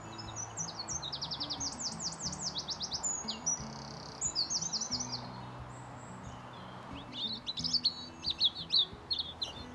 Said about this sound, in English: And birds singing, robins singing, there's a wren singing up here.